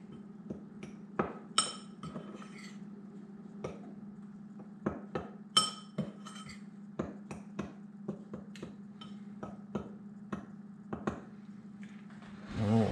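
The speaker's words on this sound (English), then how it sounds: "I'm going to take our spoon that we had and we're just going to mix all this up." A spoon mixing ingredients in a bowl in a home kitchen, producing a steady series of light clinks and taps at irregular intervals over a low background hum, with no talking.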